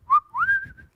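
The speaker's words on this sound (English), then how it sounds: "even whistling, right?" A person whistles a short two-note phrase: a brief clear tone, then a longer rising note that holds and trails off, close and fairly soft, with no other sound around it.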